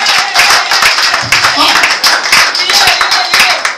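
A church congregation claps to acclaim Jesus during a Pentecostal sermon, with dense, steady rhythmic handclaps filling the room alongside voices.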